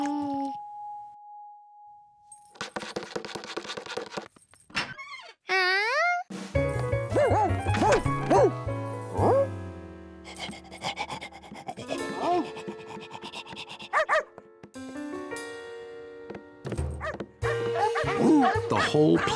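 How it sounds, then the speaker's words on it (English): A cartoon room full of strange dogs gives off a busy mix of barks, yips and jingles over bright music, with a tone sounding near the start and a voice talking throughout. "The whole place was filled with strange dogs."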